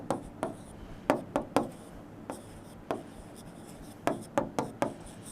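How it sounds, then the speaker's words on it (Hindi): Chalk or marker strokes writing on a board during a lesson, coming as short separate scrapes in quick bursts with pauses between them. The strokes are close and fairly quiet. "चलो यहाँ लिखते हैं"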